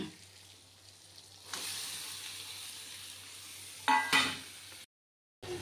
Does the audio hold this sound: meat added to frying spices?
yes